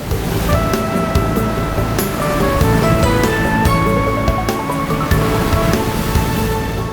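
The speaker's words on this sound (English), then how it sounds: "The stormy Atlantic continues to blow its thunderous waves against the rocky west coast." Stormy Atlantic waves break against a rocky west coast, a continuous loud wash of surf with scattered splashes and no talking.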